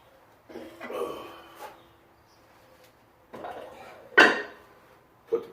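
Real iron weight plates clanking together while being loaded onto a barbell in a home garage gym, a few separate metallic clangs spaced apart, the sharpest ringing hit near the end, fairly close and otherwise quiet.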